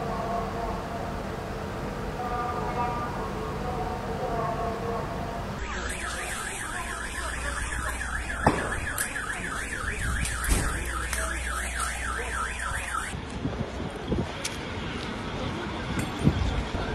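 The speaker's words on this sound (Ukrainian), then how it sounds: "Увага, повітряна тривога." Air raid alert siren in wartime Ukraine: a loud, rapidly warbling electronic wail that starts abruptly, sustains for several seconds and then cuts off, with a voice heard in the background.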